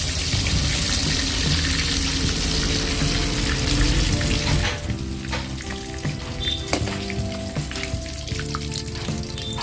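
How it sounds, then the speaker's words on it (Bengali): Chicken pieces frying in hot oil for chicken pakora, a steady loud sizzle that softens partway through, with faint clinks and scrapes and no talking. "তো আপনারা দেখতে পাচ্ছেন চিকেন হালকা লাল হয়ে গেছে, হাফ ফ্রাই হয়ে গেছে।"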